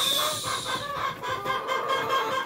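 Rhode Island chicks in a backyard farm clucking and peeping, a busy cluster of short bird calls over a continuous high background hum.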